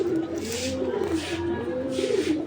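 Giribaz high-flyer pigeons coo in repeated soft, rolling calls close by, about three swelling phrases over steady background hum.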